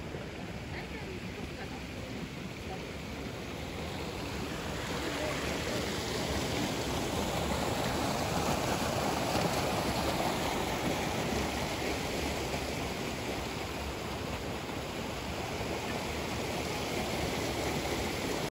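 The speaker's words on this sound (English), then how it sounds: "This is the spring also piping directly from underground, and you can see how much water" Spring water piped straight up from underground at a shrine among giant cedars on Mt. Aso, Kumamoto, Japan, pouring in a steady broadband rush with slight swells, fairly close and continuous.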